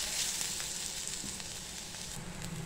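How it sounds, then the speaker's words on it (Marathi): Onion fries in a kadhai for a spicy stuffed-brinjal curry, a soft continuous sizzle with faint crackles and light stirring, heard close and fairly quiet without speech. "आपल्याला कांदा चांगला लालसर परतून घ्यायचा आहे बरं का"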